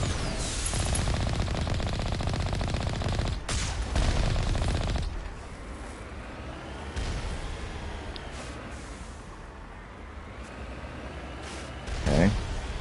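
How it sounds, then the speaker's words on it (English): Turret firing in Mass Effect Legendary Edition, a dense rattling barrage of rapid shots at close range for several seconds, then a quieter stretch of lingering combat noise. "there's a freaking turret right in my face"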